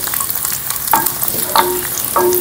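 Dry fruits are lightly roasted in a pan, with a soft dry sizzle and a few distinct scraping strokes as they are stirred, close and brief.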